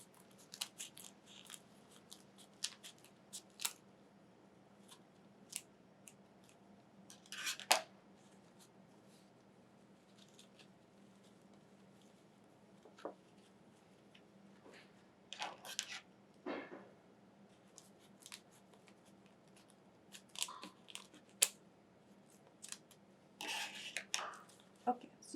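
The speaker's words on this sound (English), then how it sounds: "But first we should cut the husks to an even length." Scissors snip dry corn husks to an even length for corn husk dolls, producing sparse, quiet crisp cuts and papery rustles scattered across a hushed room.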